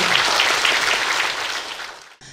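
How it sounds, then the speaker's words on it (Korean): Warm, full applause from an audience at a maritime literature festival ceremony, steady at first, then tapering off before a brief burst at the end. "큰 박수 부탁드리겠습니다."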